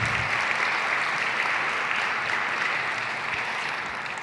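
Steady applause from an event audience welcoming Cardinal Óscar Rodríguez Maradiaga to a lecture, a dense, even clapping that fills the room and holds constant throughout, gradually easing slightly near the end.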